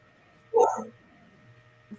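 A single short dog bark sounds at a moderate distance against a quiet background, followed by a faint brief yelp.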